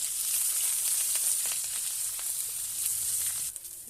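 Chopped onion, green chili and black cumin seeds fry in oil in a kadai, giving a steady, close hissing sizzle with faint stirring ticks scattered through it.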